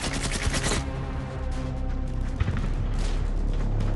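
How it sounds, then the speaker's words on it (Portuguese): Rapid gunfire and explosions crackle around a village during a World War II battle near Falaise in 1944, dense overlapping bursts and booms filling the whole stretch without pause. "Com uma onda de tiros e explosões ao redor do vilarejo,"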